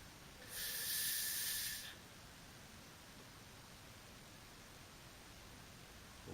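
A homebrewed milk stout bottle is eased open, letting out a single soft hiss of escaping gas that lasts about a second before quiet room tone returns.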